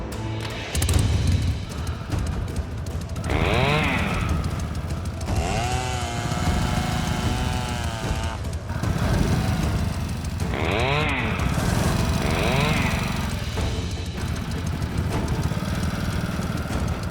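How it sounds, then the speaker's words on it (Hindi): Motorbike engine started and left running, a rough mid-pitched chugging drone that holds steady and close, with voices talking over it at several points. "बाइक स्टार्ट कीजिए।"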